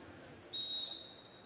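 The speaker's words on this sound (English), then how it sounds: "The whistle goes." A single sharp, high whistle blast sounds at a track cycling race, lasting about a third of a second and trailing off into faint ambient arena noise.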